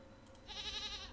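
A goat bleating in the puzzle game Rusty Lake Paradise, a single wavering bleat that starts midway and holds, fairly faint.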